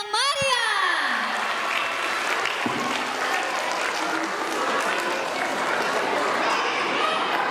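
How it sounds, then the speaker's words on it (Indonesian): An audience at a school end-of-year celebration breaks into sustained, lively applause that fills the room, mixed with crowd chatter and children's voices. A brief tonal sweep is heard at the start. "Berikan tepuk tangan yang meriah."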